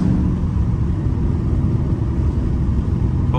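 A catless Dodge Scat Pack's engine and exhaust drone loud and close during a drive along a tree-lined back road, a steady heavy rumble that never lets up.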